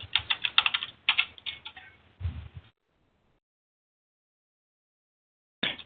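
Quick bursts of keystrokes on a computer keyboard as a password is entered, close and crisp, with a short pause before a final few taps, then silence and a brief closing clatter.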